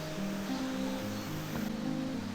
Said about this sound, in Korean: 문사동 계곡의 폭포 소리와 물소리를 들을 수 있어서